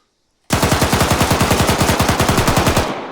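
A PKP Pecheneg machine gun in Arma 3 fires one long, loud sustained burst of about two and a half seconds, with rapid evenly spaced shots that start abruptly and stop after a brief decay.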